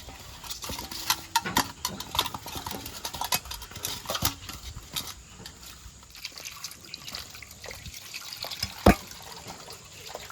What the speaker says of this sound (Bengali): মাছের মাথাগুলো জল দিয়ে ভালো করে ধুয়ে নেব